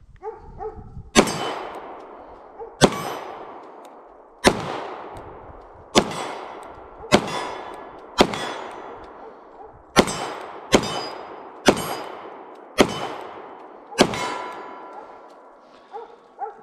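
An FN 509 Tactical striker-fired pistol fires about ten loud, sharp shots at steady intervals of roughly a second and a half, each hit ringing off steel targets with a metallic decay and no talking.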